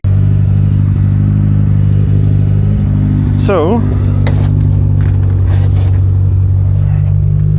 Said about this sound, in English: engine running sweet.